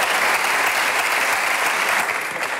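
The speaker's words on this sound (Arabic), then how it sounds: "تصفيق عليه الكلام اللي قلته" Steady, dense audience applause fills a Tunisian television talk-show studio, a broad even wash of many hands clapping at close range for nearly three seconds, with no voices on top.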